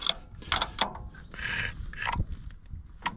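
Metal adjustable wrench clicking and scraping as it cranks over the engine of an old tractor left sitting for ten years, a run of close, uneven mechanical clicks and grinding rasps with brief pauses between turns.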